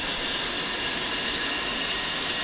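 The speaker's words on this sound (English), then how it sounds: "Once the left engine is running normal and stable, press the spacebar key to proceed." A-10C jet engine idling steadily in the DCS flight simulator after start-up, a continuous broadband turbine roar with a high whine, unchanging and alone.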